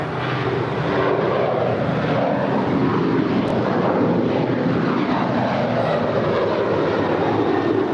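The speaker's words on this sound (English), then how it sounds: "It's a 787-9 Dreamliner landing up there on the north side" A United Airlines Boeing 787-9 Dreamliner jet comes in to land on the north side at LAX. Its engines make a strong, steady broadband rumble that runs unbroken for several seconds, alone without speech.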